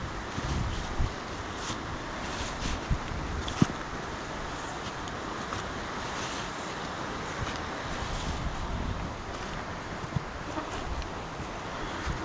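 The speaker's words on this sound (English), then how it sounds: "There's a waterfall coming down from the top left there." A waterfall at Gayle runs down fast from the top, a steady broadband rush of falling water blended with wind buffeting the microphone, constant throughout.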